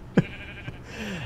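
A single short sheep bleat from a Minecraft village, fairly clear against a quiet background, followed by a faint softer sound and low ambient noise.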